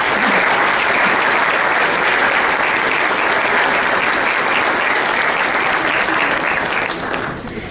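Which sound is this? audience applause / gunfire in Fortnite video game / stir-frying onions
audience applause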